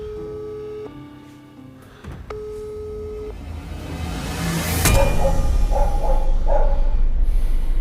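Repeating electronic busy-signal tones sound in short pulses, followed by a sharp click and a rising wash of noise with faint tonal beeps.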